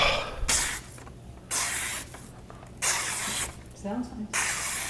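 A 210mm Hatsukokoro kiritsuke gyuto knife with Damascus cladding cuts through food. It makes four soft, breathy swishing strokes separated by short quiet gaps, heard up close.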